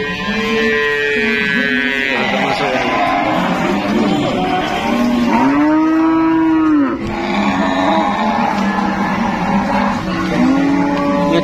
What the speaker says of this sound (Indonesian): pokoknya berbagai jenis sapi ya teman-teman